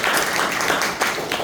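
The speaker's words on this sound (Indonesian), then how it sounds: "tepuk tangan yang keras buat Tuhan Yesus Kristus." Church congregation claps loudly, a brief burst of many hands applauding with a few sharper individual claps standing out, close and lively.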